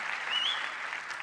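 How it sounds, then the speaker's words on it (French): An audience applauds a speaker at a Salesforce Cloudforce business event in Paris, with steady, dense clapping from a crowd filling the short moment. "Merci de l'applaudir, effectivement."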